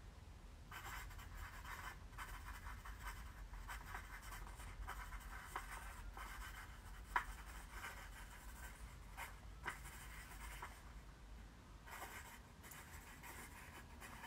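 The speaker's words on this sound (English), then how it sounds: "I'm going to write down a few of those things." Pen scratching across paper in steady, continuous strokes, close and fairly quiet, running throughout with no talking over it.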